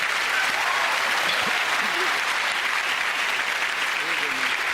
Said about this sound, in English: Give them all a round of applause, ladies and gentlemen.